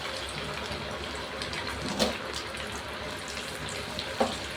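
Taro root pieces deep-frying in bubbling oil in a home kitchen, a steady broadband hiss and crackle with two brief louder pops, no voices.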